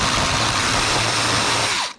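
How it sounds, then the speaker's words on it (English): A drill fitted with carbide bits grinds down a part for a Nissan 300ZX injector connector, giving a steady, loud high-pitched whine with broadband grinding hiss that cuts off abruptly at the end. "we're actually going to grind this down right here"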